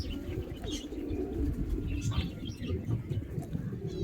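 Pigeon cooing, a steady low murmur of soft coos throughout, with a few faint higher bird chirps mixed in, moderately quiet and continuous over background noise.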